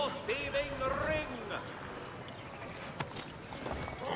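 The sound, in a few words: horses riding, hooves clopping, in video game Assassin's Creed 3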